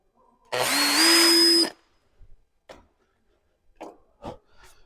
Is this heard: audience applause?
no